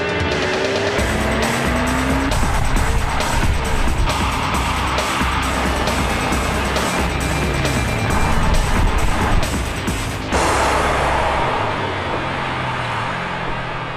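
A Porsche 911 GT3 runs fast with a loud, continuous engine roar and rushing road noise, which shifts and thins toward the end as the car moves away.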